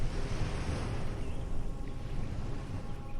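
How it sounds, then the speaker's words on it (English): Ocean waves wash steadily at the edge of a small stone harbour at night, a continuous broadband surf rush with gentle swells and some wind, fairly close and alone with no voices. "Let the sound of the waves be present now. Slow, rhythmic, patient."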